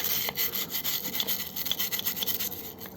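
Close, steady scrubbing of rust from the inside of a Tommy 125cc rear wheel with cleaning solution, a continuous gritty rubbing with rhythmic strokes and no talk.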